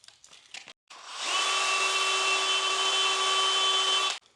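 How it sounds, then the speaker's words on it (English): A power tool whirring steadily as an EVA foam grip on a custom fishing rod is sanded down, a short handling clatter first, then a sustained tonal drone for about three seconds that cuts off abruptly. "I'm gonna keep sanding this down."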